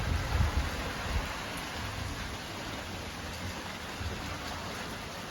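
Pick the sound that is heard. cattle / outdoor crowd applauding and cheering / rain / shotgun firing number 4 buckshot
rain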